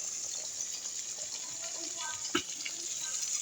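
Tap water running steadily while rice is washed for Jamaican rice and peas, a continuous hissing flow with a brief splash near the end.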